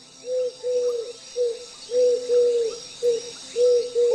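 Birds foretelling the weather give a steady run of short, tonal calls, about eight in four seconds, close by and with no other sound around them.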